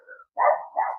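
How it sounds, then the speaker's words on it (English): Several dogs bark in quick excited bursts, a short yip followed by two louder, sustained barking bouts close by, with no talking over them. "The dogs are going crazy"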